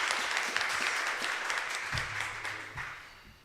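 Modest audience applause at a schools quiz semifinal, a brief burst of scattered clapping that thins and fades over a few seconds, with no voices over it.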